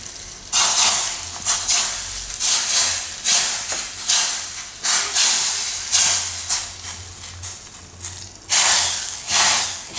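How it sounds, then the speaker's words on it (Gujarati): Loud sizzling bursts as hot oil tempering with curry leaves and asafoetida is poured onto green pigeon pea dal, repeated hissing surges that swell and fade every second or so, close up with no talking. "આ વઘાર આપણે દાળ ઉપર નાખી દેવું."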